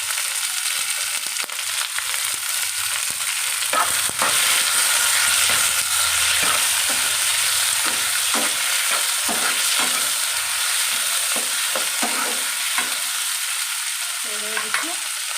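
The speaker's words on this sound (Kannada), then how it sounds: "ಫ್ರೈ ಆಗಿದೆ. ಟೊಮೊಟೊ ಹಾಕ್ತಾಯಿದ್ದೀನಿ. ಮತ್ತು ಅದಕ್ಕೆ ಕೊತ್ತಂಬರಿ ಸೊಪ್ಪನ್ನು ಹಾಕ್ತಾಯಿದ್ದೀನಿ." Tomatoes and coriander leaves fry in a pan with a steady bright sizzle, broken by repeated soft scraping and stirring strokes of a spoon, close and continuous.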